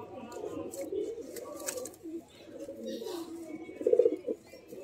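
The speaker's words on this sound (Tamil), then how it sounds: "நல்ல புறா தான் நல்லா இல்லாத புறாங்கள்லாம் இல்லை" Pigeons at a pigeon sale in Vellore coo in low, rolling bursts, close and fairly loud, with a stronger cluster of coos near the end and faint background noise.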